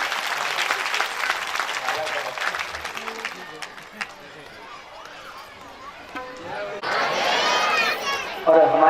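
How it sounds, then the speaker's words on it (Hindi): An audience at a Bhagwat Katha religious gathering breaks into loud applause, clapping strongly at first, then fading under someone speaking over a microphone, before another burst of clapping near the end. "इनका जोरदार तालियों से"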